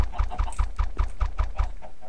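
Chickens cluck in a video game in a steady, rhythmic run of about nine evenly spaced clucks. Each cluck is clear and fairly close, with no speech over them.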